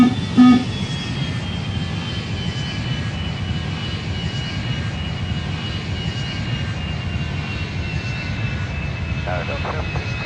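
An airliner jet in the Airline Commander flight game holds a steady, loud engine roar and whine throughout, with a faint tone drifting slowly downward and brief clicks near the start and end.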